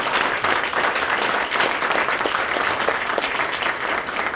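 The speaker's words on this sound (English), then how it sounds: "Give them all a big round of applause" Sustained applause from an audience at an awards event honoring women, dense and steady clapping filling the room for a few seconds with no one speaking over it.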